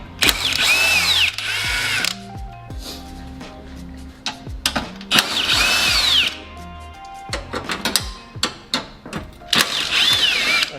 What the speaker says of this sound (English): go ahead and take these bolts off. I believe they're 10s.